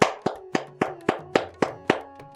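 Hand claps at a fast tempo: eight crisp, close claps in a steady, quick rhythm, each ringing briefly in a quiet room.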